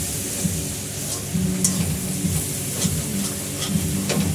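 Spice masala with Kashmiri red chili powder sautéing in a pan for Lote (Bombay duck) fish curry, giving a steady close sizzle with stirring scrapes and faint intermittent clicks.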